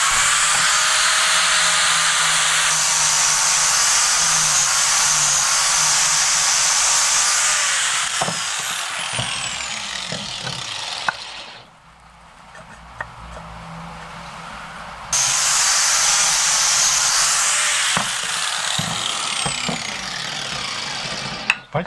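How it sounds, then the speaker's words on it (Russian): An angle grinder shapes a wooden axe handle in a workshop, giving a loud, sustained whine with brief surges and drops, a pause near the middle, then grinding resumes at full level. "мы будем снимать болгаркой и периодически насаживать изделие"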